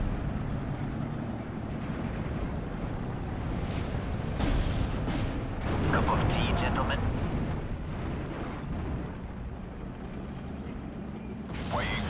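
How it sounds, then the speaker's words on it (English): An artillery barrage rumbles through a World War II Normandy battlefield in Steel Division: Normandy 44, with heavy booms and blasts rolling over a dense, continuous low roar, plus a few sharper impacts and faint radio-style voices. "Get some artillery"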